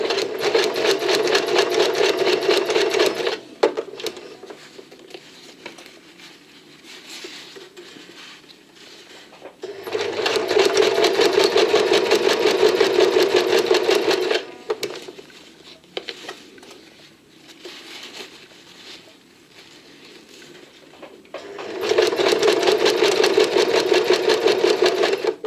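A sewing machine quilting a vest lining runs in three long steady bursts of rapid stitching, loud and close, with quieter pauses between runs and no talk.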